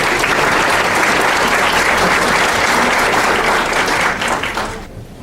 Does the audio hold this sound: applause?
yes